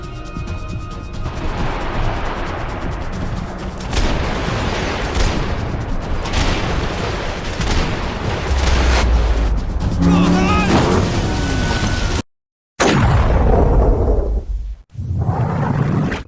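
Rapid gunfire and whooshing action noise from a rail shooting section of the video game Max Payne 3, dense and loud throughout, with a brief silent gap and heavy booming blasts near the end, talk mixed in.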